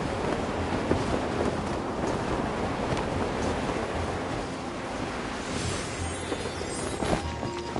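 A wind current in Genshin Impact rushes as a constant broad airy whoosh, loud and unbroken, with slight surging swells and no talking.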